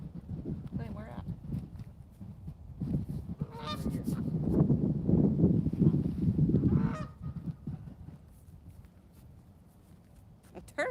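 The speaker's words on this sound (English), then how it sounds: "No, we have some weird looking ducks over here." Ducks calling outdoors beside water on a fishing outing, a run of honking, goose-like quacks that swells and then fades over several seconds, mixed with people talking nearby.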